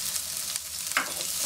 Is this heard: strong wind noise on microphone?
no